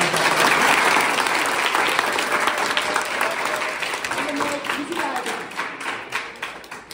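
Audience applause at a school campaign event, a dense burst of many hands clapping loudly at first, then gradually thinning and fading over several seconds.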